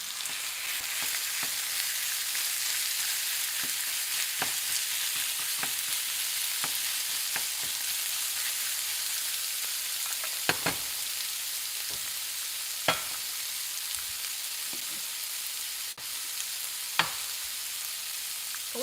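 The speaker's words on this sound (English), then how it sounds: "This is just olive oil and garlic. And now the minced pork would go in." Minced pork fries in olive oil with garlic for pork sisig, giving a steady, close hiss of sizzling with occasional sharp pops and stirring clicks throughout.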